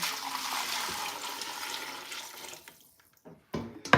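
Homemade chicken broth made from freezer scraps pours in a steady liquid gush into a container, thinning out and trickling to a stop, followed by a couple of brief clunks.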